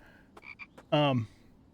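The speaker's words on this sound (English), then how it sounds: "We want to grab frogs because they're going to be an early source of food." A frog croaks in the survival video game The Infected, a few short clicks followed by one loud, rasping croak, close and alone.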